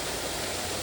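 Water pumped out of a fish pond gushes in a steady, dense rush, loud and continuous with no voices over it.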